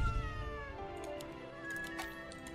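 A cat unit in the strategy game Legion TD 2 gives a drawn-out meow, fairly faint and close, with a second rising mew near the end over light game clicks.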